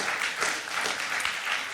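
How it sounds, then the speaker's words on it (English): Audience applause in a public speaking venue, steady broadband clapping from a crowd throughout, fairly loud and continuous with no pauses. "You can clap, I'll wait."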